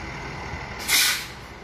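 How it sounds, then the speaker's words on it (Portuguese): A truck arriving to haul away discarded household items releases a single sharp hiss of its air brakes over a low, steady background rumble. "Esse caminhão aqui que vem buscar."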